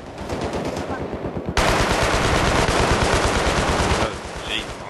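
Sustained rapid bursts from a jeep-mounted stationary gun in Battlefield 3's Tehran conquest map, loud and close, growing denser midway, with a voice heard briefly over the gunfire.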